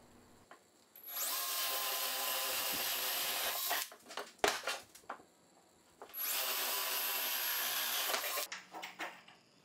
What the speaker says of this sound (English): mark where the holes for the bolts should be drilled and drill the holes out